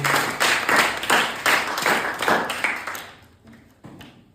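A small group claps for Vaishnavi after she solves a matchstick-style pen puzzle, with rhythmic close claps in a steady beat that thin out and trail off into a few scattered last claps.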